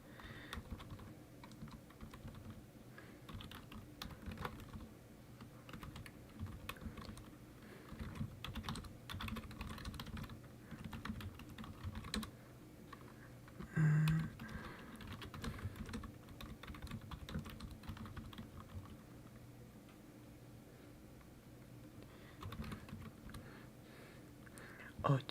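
Soft, quick clicking of computer keyboard keys typing a message during a quiet live ASMR stream, a continuous close patter with occasional faint breathy voice underneath.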